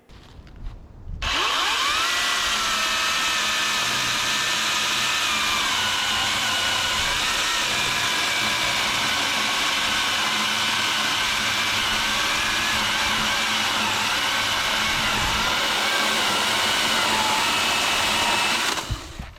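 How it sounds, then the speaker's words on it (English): A DEWALT 60V 14-inch top-handle cordless chainsaw spins up and cuts through an 11-inch piece of maple, holding a loud steady whining bite for about seventeen seconds before winding down. "I just wanted to gauge the performance of the saw, and I started out doing so with about an 11-inch piece of maple"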